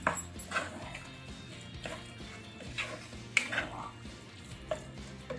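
Chickpeas are stirred into cooked masala in a pan for chole, giving irregular scraping and clacking of a spoon against metal, fairly close, with some faint background noise.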